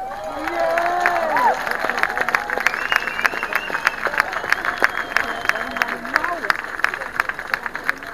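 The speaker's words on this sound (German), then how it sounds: "Gebt euch selber einen Applaus dafür." Demonstrators at a Monday protest at the Brandenburg Gate in Berlin applaud themselves outdoors, with scattered sharp claps and cheers over a crowd murmur, while a loudspeaker voice rises and falls across the din.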